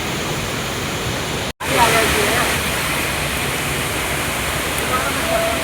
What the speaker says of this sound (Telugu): వాటర్ ఫాల్స్ దగ్గరలో ఉన్నాను, చూపిస్తాను.